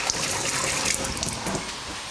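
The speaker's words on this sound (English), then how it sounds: "I wash my hands." Tap water runs in a kitchen sink as hands are washed beneath it, a close, steady splashing and trickling stream with small irregular spatters, heard alone for a couple of seconds.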